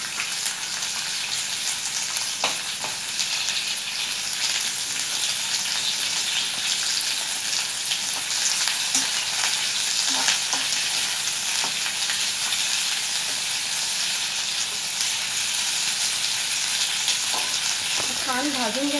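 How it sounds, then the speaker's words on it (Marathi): Sliced onion frying in a spoonful of oil in a kadhai for mutton, a steady dense sizzle that runs loud and unbroken throughout with faint stirring scrapes near the end. "त्या कढईमध्ये मी 1 चमचा तेल टाकून घेते. त्या तेलामध्ये आपण उभा चिरलेला कांदा"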